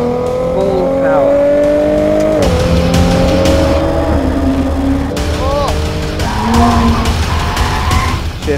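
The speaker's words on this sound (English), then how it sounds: "Okay, full power now. Full power." A Jaguar accelerating at full power around Yas Marina Circuit, engine rising in pitch through gear changes with brief tire squeal, loud and close, while a voice talks over it.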